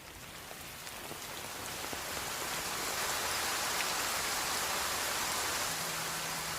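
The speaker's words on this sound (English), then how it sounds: "It's about to rain." Steady rain in an anime scene, a dense hiss that swells over the first few seconds and then holds constant and moderately loud, with no voices over it.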